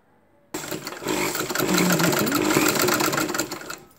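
A sewing machine runs up from silence and stitches a nighty gown in one continuous, close, whirring burst lasting about three seconds before slowing, with no talking.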